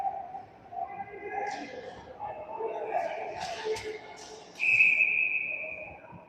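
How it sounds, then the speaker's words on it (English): A referee's whistle sounds at an 18U ice hockey playoff game. It gives one sharp, piercing blast near the end over rink noise and a commentator's voice. "Puck is frozen, and we get a whistle."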